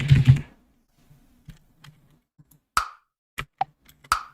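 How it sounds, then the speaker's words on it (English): Sparse, dry woody clicks from a wood block sample in FL Studio, a few isolated hollow knocks spaced irregularly after a brief low thump at the start, with silence between them. "Some kind of like block sound."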